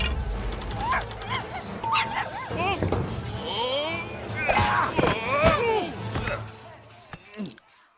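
Cartoonish dog barking, yipping and whimpering in the Lego Batman video game, repeated bursts layered over game music and character voices talking throughout.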